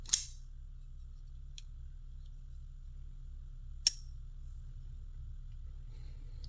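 A custom Gavko folding knife's action snaps open and shut: two crisp, sharp metallic clicks a few seconds apart over a low steady hum, with a faint tick between them.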